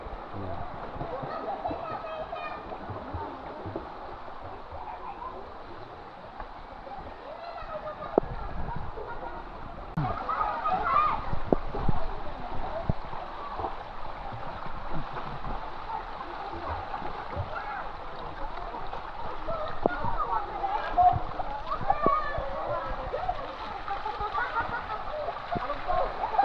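Water gushes steadily from a pipe at a natural spring in Ibaan, Batangas, once leaves clogging it are cleared, a continuous splashing flow with someone talking over it.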